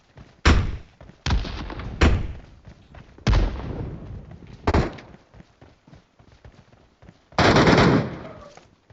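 Famas rifle gunfire in PUBG Metro Royale, six loud separate bursts of shots with heavy thuds, spaced a second or so apart, with quieter game noise between them.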